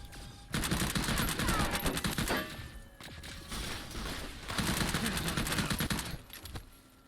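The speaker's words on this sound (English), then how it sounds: "I just started shooting my own teammates" Sustained automatic gunfire in the Fallout video game while shooting at teammates, long rapid bursts from nearby separated by brief pauses, loud and continuous through most of the stretch.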